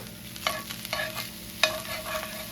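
Onion going into drained 80/20 ground beef in a pan for nacho topping: a low, steady sizzle with three sharp spatula scrapes and a few lighter stirs, close and free of speech.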